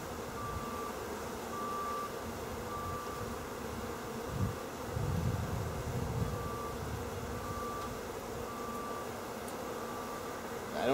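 Honeybees drone in a steady, continuous hum from an opened new hive during a frame inspection. Faint, thin tones sit above the buzz, and a slightly louder rustle swells midway through.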